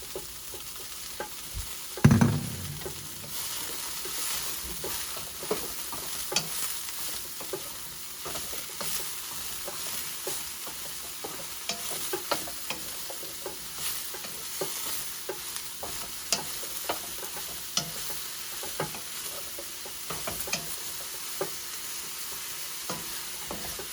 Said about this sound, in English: I'm gonna go ahead and add in my mushrooms